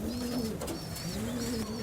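Fulshira pigeons coo continuously and close by, with repeated soft rolling calls overlapping in a steady chorus, and no voices.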